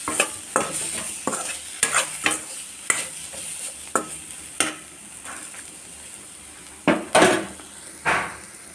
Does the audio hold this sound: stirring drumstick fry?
yes